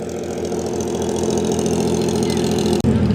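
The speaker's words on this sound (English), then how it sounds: "Got a Fraser Nash just firing up over here." Vintage Frazer Nash car engine firing up at a hillclimb meeting, a loud, close, steady mechanical running note with a brief cut just before the end.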